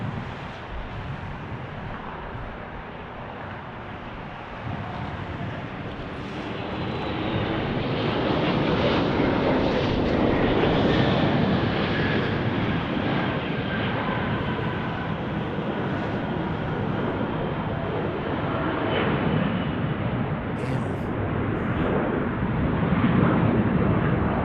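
A United Airlines Boeing 737 Max 9 jet, on a Las Vegas plane-spotting stream in a 20-knot crosswind, makes a loud, steady roar that swells after the first few seconds and holds for the whole stretch, with no talk.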